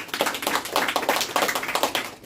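Hands clap together in a brisk round of applause from a small group at a talk, with steady rapid claps close by and no voices over them.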